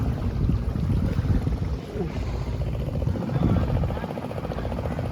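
A hired single boat rides the Alappuzha backwaters in Kerala, with a steady broadband rumble and wind-like wash that runs continuously and loudly throughout, no break in the drone.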